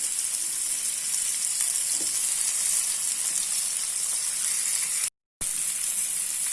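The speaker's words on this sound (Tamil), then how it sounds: "இப்போ இதில் லைட்டாக மேலாப்பில் நான் எண்ணெய் ஊற்றிக்கிறேன்" Vanjaram fish fries in oil in a pan, giving a steady, loud sizzle with hiss across the whole stretch, broken only by a brief dropout near the end, with no talking.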